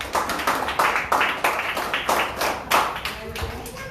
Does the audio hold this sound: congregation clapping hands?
yes